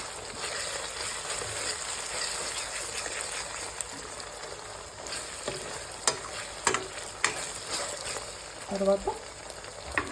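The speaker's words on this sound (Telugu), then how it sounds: "అల్లం పేస్ట్ బాగా ఆయిల్లో వేగినట్టు" Ginger paste frying in oil in a pan, with a steady soft sizzle and a few sharp spoon scrapes and stirring clacks toward the end; a voice speaks briefly over it.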